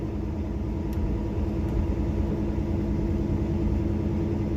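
Highway traffic moves slowly past with only one lane open, giving a continuous low engine rumble and road noise at moderate level, fairly near, with no talking.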